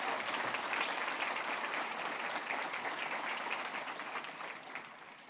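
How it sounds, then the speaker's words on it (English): An audience at a chamber of commerce annual membership gathering gives a round of steady, even applause that holds throughout and fades slightly toward the end, with no speech over it. "can I ask for one more round of applause for David and his team at the Chamber tonight?"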